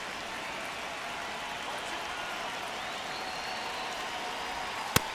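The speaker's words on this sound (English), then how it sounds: "Just underway, crowd getting settled here at Dodger Stadium." Steady crowd murmur fills Dodger Stadium in the MLB The Show video game, a low continuous wash of fans at moderate distance with a single sharp crack near the end.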